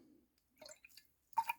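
Water from a wooden-handled shaving brush drips into a bowl in a few small, separate plops, quiet and close against silence.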